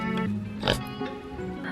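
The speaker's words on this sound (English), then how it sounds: "Pigs are cute and they have their sweet moments" A pet house pig grunts and oinks close by in a cabin, giving a few short, rough snorts in quick succession with a louder burst in the middle.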